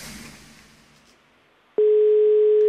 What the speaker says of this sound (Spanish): ¿Por qué no atiende, Facundo?